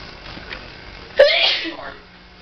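A single sharp sneeze bursts out midway through, close and loud, after a quiet stretch with faint background noise.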